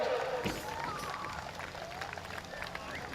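Spectators at Maryborough Speedway clap steadily for driver Scotty Thompson after a heavy crash, a broad outdoor wash of applause with a commentator talking over it.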